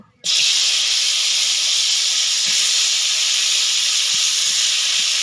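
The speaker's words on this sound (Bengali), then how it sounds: "কড়াইতে তেলটা আমার গরম হয়ে গেছে ভালোভাবে। এবার আমি উচ্ছে আর আলুটাকে দিয়ে দিব।" Bitter gourd and potato drop into hot oil in a wok, setting off a loud, steady sizzling hiss that starts abruptly and holds evenly throughout.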